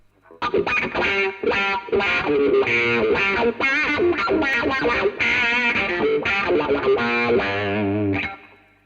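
Electric guitar through a BOSS DS-1 distortion pedal plays a sustained, gritty riff with sweeping wah tonal changes, loud and continuous until it stops abruptly.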